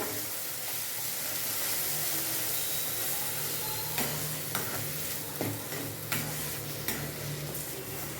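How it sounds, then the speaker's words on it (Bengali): Ground mung and pea lentil paste frying in a pan for a vegetarian pointed gourd dish, a constant close sizzle with a run of sharp spatula scrapes and knocks in the second half. "যে ডালটা আমি বেটে রেখেছিলাম মুগ ডাল আর মটর ডাল মিলে, দিয়েও ভালো করে আমি এটাকে ভেজে নেব।"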